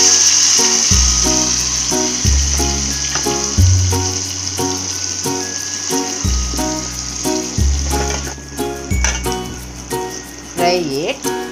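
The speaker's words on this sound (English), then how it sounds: "Fry it for 2 minutes and then turn over the potatoes." Baby potatoes frying in hot oil with cumin (zira) give a steady, close sizzle that runs through the whole stretch, under recurring low tonal sounds and a voice.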